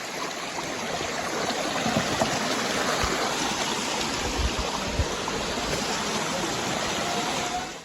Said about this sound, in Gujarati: પાણી ખરખર ખરખર અવાજ આવે છે